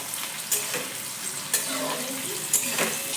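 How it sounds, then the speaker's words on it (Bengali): Chopped onions sizzle steadily in hot oil while a utensil scrapes and stirs the pan in regular strokes about once a second. "তেলটা এখন গরম হতে থাকে। তো পেঁয়াজ কুচি দিয়ে দিচ্ছে"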